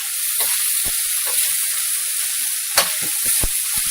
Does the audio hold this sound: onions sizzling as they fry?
yes